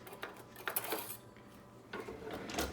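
Avocados mashed and stirred with a fork in a bowl for guacamole make faint, irregular clinks and soft squelching scrapes in short bursts, close and quiet.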